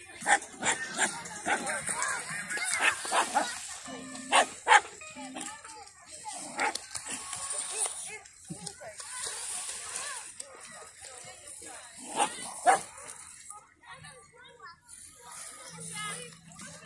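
Dogs bark and yip on a beach set aside for dogs, with a Husky among them, in scattered short bursts over lively background chatter, children's voices and people talking throughout.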